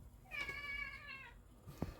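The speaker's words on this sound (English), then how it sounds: "My cat's in my room now." An indoor house cat lets out one long, high meow near the microphone, fairly faint, followed by a brief thump of movement.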